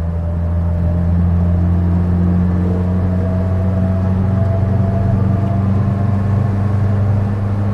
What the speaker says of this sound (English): Now, obviously, it's a three-speed gearbox, so it's going to get a little noisy at speed.